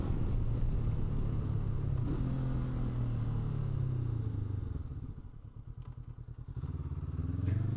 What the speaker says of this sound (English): Now, it's a very quiet engine.